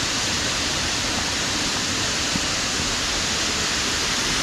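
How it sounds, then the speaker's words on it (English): Steady, dense roar of a waterfall dropping down over rocks, a constant broadband rush close by with no other sounds. "I've taken some shots of the top of the waterfall and where it's dropping down, and those waterfalls coming down the rocks on the other side"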